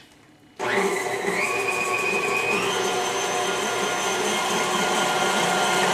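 An electric mixer creams butter and sugar in a home kitchen, switching on abruptly and then running as a loud, steady whir with a rising whine partway through, alone without any talk.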